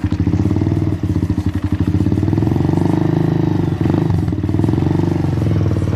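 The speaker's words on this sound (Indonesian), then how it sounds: "Ngebas sih empuk, nggak berisik karena knalpotnya nggak knalpot murahan gitu." A nearby Suzuki Thunder motorcycle with a bassy aftermarket exhaust runs loudly, its low rumble swelling and dipping slightly as the throttle is blipped.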